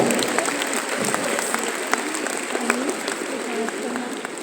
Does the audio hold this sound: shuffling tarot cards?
no